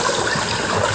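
A large waterfall on a Serrinha hiking trail rushes in a dense, steady roar of falling water, loud and close throughout the brief moment.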